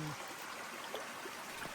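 In a Cornwall woodland that counts as temperate rainforest, a small stream flows and trickles with a steady, soft wash of water that stays faint and close the whole time.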